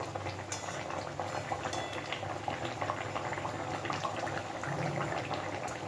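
A curry of chana dal fritters and potatoes simmers in a pot, giving a close, steady bubbling with small liquid pops and a faint clink of utensils.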